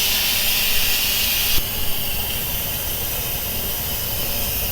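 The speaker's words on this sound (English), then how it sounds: "it took about a minute for it to actually finish venting, and the little pin inside had gone down" Steam hisses steadily and loudly from the vent of an Instant Pot Duo 5.7 litre electric pressure cooker during pressure release, a continuous close rush with a slight shift partway through and no talking.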